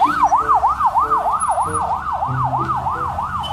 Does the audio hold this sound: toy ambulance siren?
yes